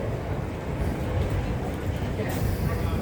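London Underground train at a station platform, a steady low rumble and hiss of the carriages running on throughout, with a brighter hiss rising near the end and voices faintly mixed in.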